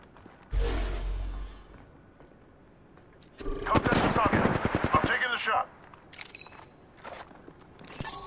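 Rapid automatic gunfire from an Apex Legends firefight: a short loud burst, then a longer sustained volley of rattling shots, followed by a few scattered bursts trailing off, with faint game ambience in the gaps.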